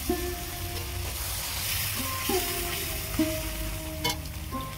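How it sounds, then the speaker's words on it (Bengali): A little milk poured into a sizzling egg korma gravy sets off a loud, crackling fry with bursts of bubbling and stirring. Faint tonal hums sit in the background, and nobody speaks. "গ্রেভির মধ্যে অল্প একটু এখন দুধ দেব।"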